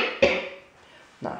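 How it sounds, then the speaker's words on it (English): A person coughs twice at four in the morning, kept awake by a cough, with two sharp, close bursts about a second apart in a quiet room. "No, too busy coughing."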